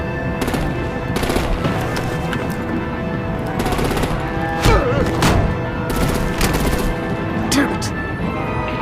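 Gunfire and artillery from the video game Batman: The Enemy Within: loud, rapid bursts of automatic fire with sharp cracks and heavier booms, continuing over a dense game soundscape.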